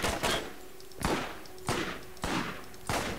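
Assault rifle fire in the video game Borderlands: five loud, close bursts of rapid automatic shots, spaced under a second apart, with no voices.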